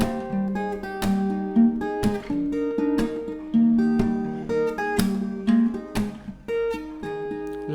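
Acoustic guitar strumming and picking chords in a steady rhythm, the section played after a song's chorus, close and clear with ringing strings and no talking.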